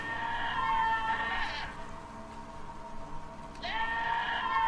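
Sheep bleating in the Albert and Otto video game, two long, wavering cries separated by a brief lull, loud and close, with no talk.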